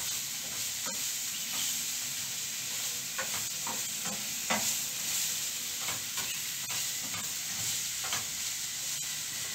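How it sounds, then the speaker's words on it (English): Red, yellow and green bell peppers sizzling in a frying pan over low heat, a continuous close hiss broken by occasional stirring scrapes, with no voices. "I'm finally going to add my mixture of red, yellow and green pepper for the nice color"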